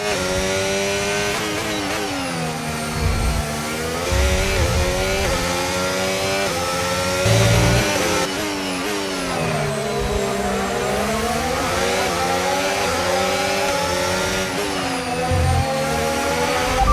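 Race car engines in a racing video game, a loud close high-pitched whine that rises and falls through repeated gear changes and speed shifts, with occasional low thumps, continuous for the whole stretch.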